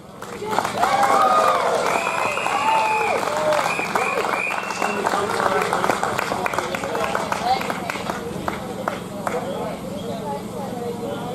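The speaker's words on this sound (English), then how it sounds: "Another round of applause for this lovely lady." A crowd at an outdoor political rally in Glasgow claps and cheers, with voices calling out and chattering through the applause. The clapping is loud at first and then eases slightly while staying busy with crowd noise.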